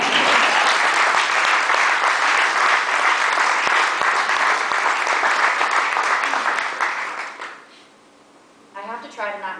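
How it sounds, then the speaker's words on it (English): Loud, sustained audience applause at a speech, a dense clapping roar that holds steady for several seconds and then fades, with a voice starting to speak at the end. "So round of applause for the supermodels of this."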